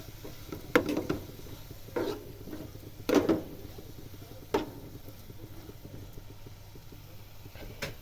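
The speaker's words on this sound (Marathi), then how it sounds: "हळद टाकून झाली की परत चांगला व्यवस्थित परतून घ्यायचा" Finely chopped tender radish greens sautéed with turmeric in oil, heard as a faint sizzle under scattered stirring scrapes and pan knocks that come every second or two.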